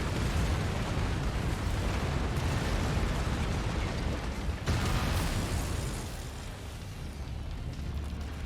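Mech weapons firing and explosions in the MechWarrior 5: Mercenaries video game, a dense, continuous roar of blasts and rumbling booms with a sharp surge near the middle, loud throughout and without voices.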